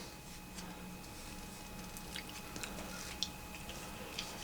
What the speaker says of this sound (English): Right now I'm chewing the piece of sinew that's going to be used for this particular arrow